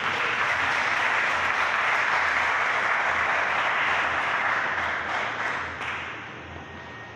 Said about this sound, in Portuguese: Mais palmas para Jesus.